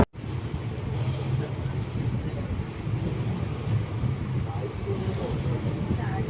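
Malabar Express passenger train rolling into Kumbla station, a steady rumble of wheels and carriage noise heard from inside, fairly quiet and continuous.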